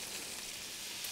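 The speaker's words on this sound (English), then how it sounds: "Once the bacon's been frying for a few minutes and we've got nice brown colour" Bacon and cabbage frying in a pan give off a soft, even sizzle, steady and fairly faint throughout the short stretch, with no voices.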